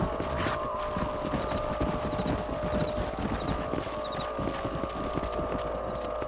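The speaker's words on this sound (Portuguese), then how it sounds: "Vai, cavalinho." Horse hooves clip-clopping steadily in the video game Red Dead Redemption, a continuous close rhythmic trot over a constant background hum.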